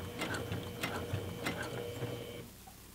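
A sewing machine stitches a zipper into a makeup bag, giving a quiet mechanical whir with soft, regular ticking clicks throughout.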